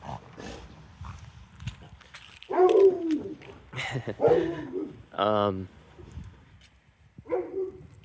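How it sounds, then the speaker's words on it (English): A dog barks a few times close by in short, separated bursts, mixed in with a person talking casually while walking around. "Oh, dog."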